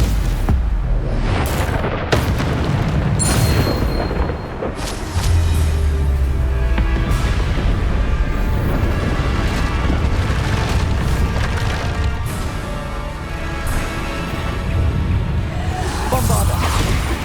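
Repeated booming blasts from the Bombarda spell in the Hogwarts Legacy video game, loud and dense, with heavy low rumble, whooshes and debris crashes running throughout.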